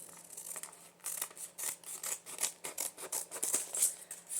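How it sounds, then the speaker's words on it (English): Scissors snipping paper while trimming a white section of a page for a Christmas junk journal, a steady run of short crisp cuts close by with no talking. "And then I think I'm going to cut off this white part too."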